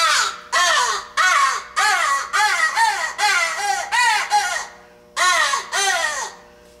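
A crow predator call sounded with the reed left unpinched gives a run of about ten harsh, loud caws in quick succession. A brief pause follows, then a final pair of caws, all close and with nothing else heard.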